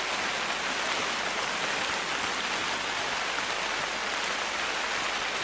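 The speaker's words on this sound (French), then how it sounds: "Il y a un bruit, la pluie," Rain falling in the hunting video game The Hunter, a steady, even hiss of rainfall throughout, close and uniform, with no talking over it.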